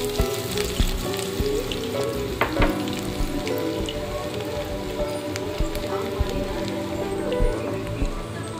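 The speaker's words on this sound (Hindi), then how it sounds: "अच्छे से तेल गरम हो चुका है हमारा, अब डालेंगे जीरा राई" Cumin and mustard seeds hit hot oil in a pan with a steady, dense crackling sizzle and scattered pops, close and fairly loud throughout.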